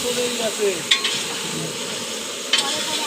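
Potatoes and chicken fry together in a big batch for a picnic meal serving about a hundred people, giving a continuous close sizzle with stirring and a couple of sharp metal clinks.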